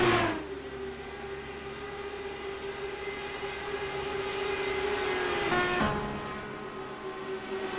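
Race cars scream down the backstretch of an oval track during a broadcast, a steady high-pitched engine whine building and passing, with a second car sweeping by near the end.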